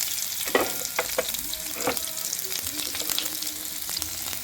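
Chopped onions and garlic sauté in a pan for ginisang sayote, giving a steady close sizzle broken by several sharp scrapes and clinks of a spatula stirring.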